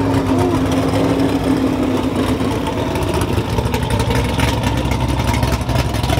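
A twin-turbo Chevrolet Camaro ZL1 rumbles loud and close at a muscle car meet, with a deep, steady engine drone and a brief rise in pitch near the start.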